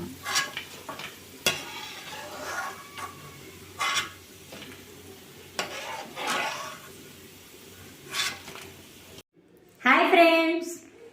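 Cauliflower pakoda fry in hot oil with a low bubbling sizzle. Intermittent scoops and clinks come as the pieces are lifted out, then a brief, louder clatter near the end.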